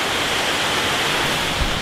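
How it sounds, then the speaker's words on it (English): Water pours steadily at a memorial waterfall fountain, a dense, continuous broadband rush that stays loud and even throughout, with a brief low thump near the end and no voices. "we're at the waterfall"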